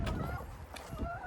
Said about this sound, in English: chickens are funny